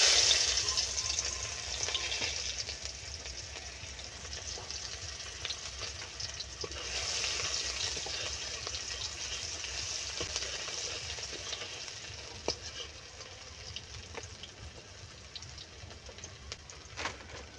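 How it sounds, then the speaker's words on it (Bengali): Chopped onion frying in hot oil in a wok for a mourola fish recipe, giving a steady, close sizzle throughout with a few soft stirring clicks and brief bursts, no talking. "এবারে তেলটা গরম হয়ে গেছে আর সেজন্য আমি এখানে দিয়ে দিচ্ছি পেঁয়াজ কুচি।"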